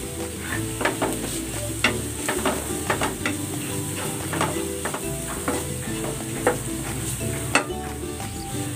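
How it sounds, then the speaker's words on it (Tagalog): Onion and curry powder sauté in a hot pan, a steady sizzle and fry broken by scattered scrapes and clinks of a utensil stirring against the pan, close and fairly quiet, with no voices. "Gigisa ko na rin tong sibuyas."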